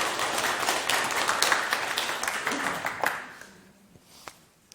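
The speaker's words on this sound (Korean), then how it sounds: "야, 역시 박수 한번 치세요." Audience clapping at a Korean Buddhist dharma talk, a moderate, fairly distant patter for about three seconds that then fades into near quiet with a few stray claps.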